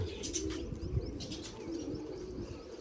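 Newly arrived pigeons settling into a loft, giving faint coos and chirps with a brief flutter of wings near the one-second mark, steady and fairly quiet throughout with no voices.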